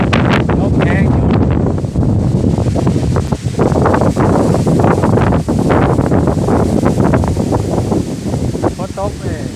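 Strong wind sweeps across an open rice field at harvest time, a loud continuous rumble and gusting buffet on the microphone, with a person talking throughout.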